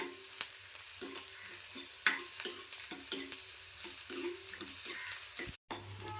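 Onion softening in hot oil for a tempering in a Malvani kitchen: a close, continuous sizzle broken by repeated scrapes and knocks of a stirring spoon, with a brief dropout near the end.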